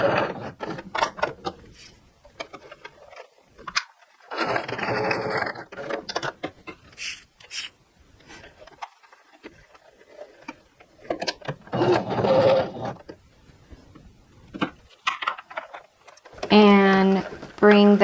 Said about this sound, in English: sew, back stitch, forwards, back stitch, and manually put your needle down.